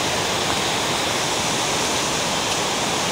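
Kezar Falls, a waterfall in Maine, roars as a loud, unbroken broadband rush of falling water, steady from start to finish with no voices.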